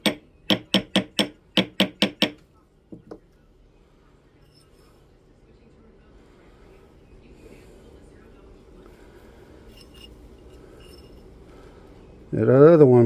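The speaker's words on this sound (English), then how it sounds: "just going to do a little bit of tapping with our ball peen hammer here" A ball peen hammer taps on metal in a quick run of about eight sharp, ringing strikes in two bursts, followed by two softer taps, then a quiet stretch and a voice at the end.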